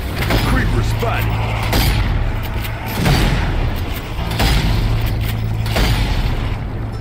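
Booming gunshots from a Zombie Army 4 zombie shooter in the Meat Locker level. The shots land as several heavy blasts spread through a dense, constant bed of game noise and low hum, with a voice talking over much of it.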